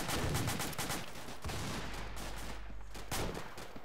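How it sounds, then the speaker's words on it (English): Gunfire rings out in a military video game, a rapid string of loud, sharp shots in close bursts with brief gaps between volleys. "Firing ready. Firing!"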